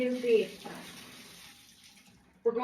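Water runs steadily into a bathtub to wet it for scrubbing, a soft continuous hiss at moderate level that fades slightly before a brief voice cuts in at the end.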